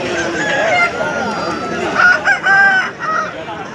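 A rooster crows and clucks at the Pileru hen market. Several short bursts of crowing come from close by, with a babble of other fowl and market noise underneath.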